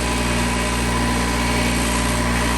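A power polisher runs steadily during restoration of an old OB-4 signal drill, a loud, continuous motor whine with a constant hum and no change in pitch, close by and alone.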